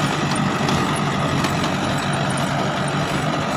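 A Mahindra 575 XP Plus tractor runs a rotavator across a field in second gear, its steady, dense engine drone and churning rumble holding level and fairly close throughout, with no voices over it.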